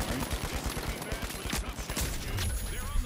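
Rapid bursts of automatic gunfire in the video game The Finals, steady rattling volleys with chatter from players mixed in.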